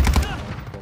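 A Cronin Squall rifle in the Warzone 2.0 game fires a quick, loud burst of shots up close, the cracks packed tightly together before a short ringing tail.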